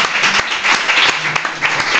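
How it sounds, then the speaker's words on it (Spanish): Studio audience applauding for a show guest, a dense steady wash of clapping from start to finish with no talk over it. "Un aplauso para Iñaki."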